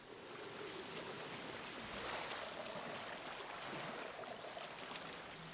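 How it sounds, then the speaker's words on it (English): Water in the fantasy video game Soulframe, a continuous washing, churning gurgle like surf or a stream, fairly quiet and steady throughout with no voices. "Yes, that sounds like something gurgling."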